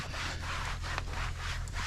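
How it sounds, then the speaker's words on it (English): A cabinet inside a truck wiped down with soapy water, a steady close rubbing and scrubbing noise running without a break throughout, with a low hum underneath. "So now we wipe our cabinets down. Just soapy water."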